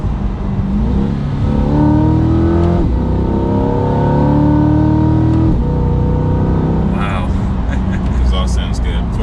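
A Chevrolet Corvette C8 engine revs up loudly through a factory exhaust, steadily climbing in pitch as it accelerates in second gear, close and continuous, with a shift partway through.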